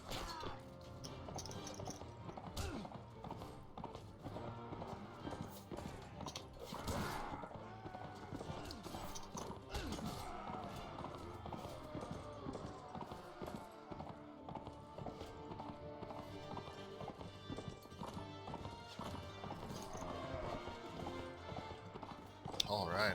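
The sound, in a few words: horse hooves in Mount and Blade: Warband video game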